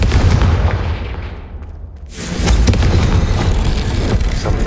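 A Confringo spell explodes in the video game Hogwarts Legacy: a loud roaring blast fades briefly, then a second heavy boom bursts close and rumbles on, with no voices over it.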